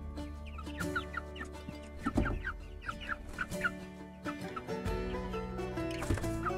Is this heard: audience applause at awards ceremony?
no